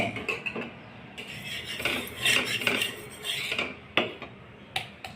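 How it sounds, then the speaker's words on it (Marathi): Oil is spread across a hot tawa griddle for a paratha, with metallic scraping and clinking strokes in quick irregular bursts, close and moderately loud with no talking. "आता तव्याला तेल लावणे"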